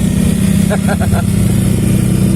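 A motorcycle engine powering a motorbike rickshaw idles loudly and steadily up close, a constant low rumble with a brief rising revving blip near the middle.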